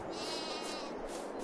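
A sheep bleats once in a free-range pasture on an Iowa farm, a short, wavering call heard fairly close against quiet surroundings.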